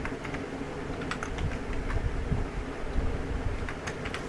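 Code being typed on a computer keyboard, a run of quick, irregular key clicks over a steady fan-like background hum, with no voice.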